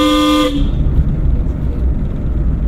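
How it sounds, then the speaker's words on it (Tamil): A single car horn honk rings out at the start during a driving lesson, then fades into the continuous low hum of the car moving along the road. "அவருக்கும் ஹார்ன் அடிக்கணும்."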